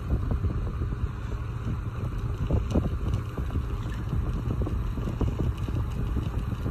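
A cheap, weak electric fan runs steadily nearby, its broad whirring hum and airflow rumble continuous, with no clear change in pitch.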